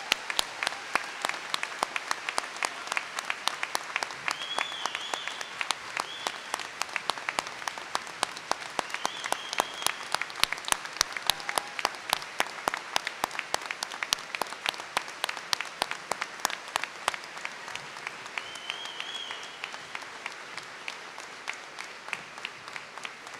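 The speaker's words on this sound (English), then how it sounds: "How about another round of applause for these students?" Sustained applause from a large audience at a high school graduation ceremony, steady and rhythmic with some claps syncing into a beat, a few whoops rising above it.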